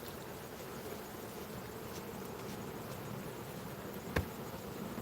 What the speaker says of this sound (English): The bees, mainly just the workers.